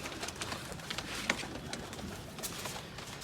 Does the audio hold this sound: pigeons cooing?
yes